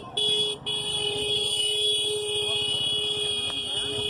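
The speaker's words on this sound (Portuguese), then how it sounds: "Buzina é normal, tá?" A sustained, blaring car horn holds a steady tone over low street rumble in India, with a short break near the start.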